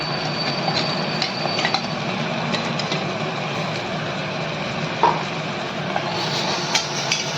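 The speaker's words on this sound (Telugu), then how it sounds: "ఇది కూడా ఈ ఆయిల్లో వేసి చాలా మంచి వాసన వచ్చిన వరకు ఫ్రై చేయాలండి" Ground masala frying in hot oil in a pan for chicken curry, a continuous low sizzle and bubbling with occasional light clicks and spatters, steady and close, no talking.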